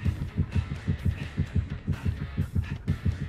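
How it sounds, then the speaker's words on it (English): A rapid, pounding heartbeat effect from a horror video game thumps in steady double beats, about four per second, loud and close with no voices over it. "So many heartbeats."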